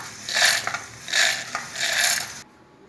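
A kitchen mixer grinder whirs through dry ginger and lentils in three short pulsed bursts of harsh grinding, close and fairly loud, before cutting off abruptly.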